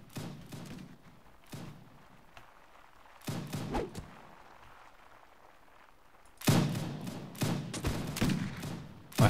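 Firearm shots in the Warband mod Warsword Conquest, a scattered fusillade of booming reports and thuds at mid distance, a few isolated shots early, then a dense burst of gunfire near the end.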